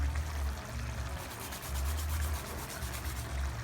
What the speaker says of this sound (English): So I'm just going to grate that in with the smallest side of your grater